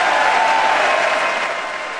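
Loud, sustained applause fills a large chamber of the US Congress, many hands clapping densely and evenly, fading only slightly toward the end.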